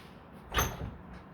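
A home door swings open with a single short thud and a brief rattle close by, a quiet room with no talk around it.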